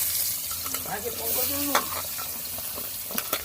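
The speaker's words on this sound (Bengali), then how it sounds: "এই পেঁয়াজ দিয়ে দিই" Onions sizzle in hot oil in a pan during rooftop cooking of a meat curry, a steady frying hiss with brief stirring scrapes and clatters and a faint voice underneath.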